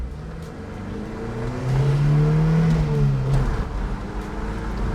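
1994 Toyota Pickup pulling away from a stop sign, engine note rising as it accelerates, with a steady low drone and a swelling rev heard from inside the cab.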